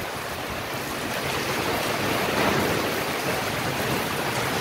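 Heavy rain with hail and wind lashing down outdoors, a steady, loud, broadband roar of pouring water and pelting ice that holds constant throughout with no voices.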